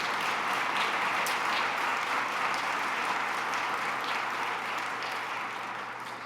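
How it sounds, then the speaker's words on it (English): Sustained applause from an audience at an event on medical isotopes, a thick, even clatter of many hands lasting several seconds and tapering off toward the end, with a low steady hum beneath and no voices. "So let's give the Ontario budget a round of applause."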